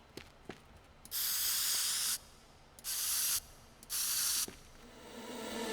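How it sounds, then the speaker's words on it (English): A spray can in the video game Teardown hisses in three sustained bursts, each about a second long with short gaps between, bright and close against a quiet background. "Spray can."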